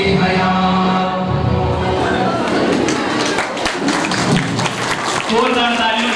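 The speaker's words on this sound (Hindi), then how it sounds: "जोरदार तालियों से इन बच्चों का हो गया है।" Audience applauding children at an educational seminar, a sustained burst of clapping from a crowd mixed with speech, loud and close throughout.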